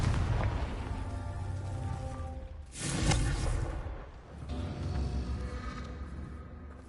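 Confringo blasting spells explode in Hogwarts Legacy, rumbling booms over a low background drone, with one sharp louder blast standing out midway, then more muffled rumbling.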